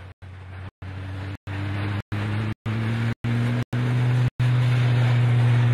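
A damaged race car with heavy front-end damage at the NSW Motor Racing Championships, its engine droning steadily and climbing through the gears, pitch rising with brief breaks between each shift, close and loud with no voices.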